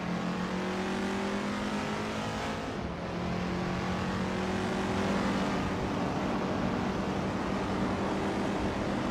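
A 1954 Mercedes-Benz 300 SL racing car engine in a racing video game, a sustained, fairly faint tone with a slight pitch change midway, continuing steadily to the end.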